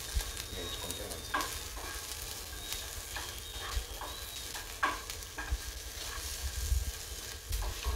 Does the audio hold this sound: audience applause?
no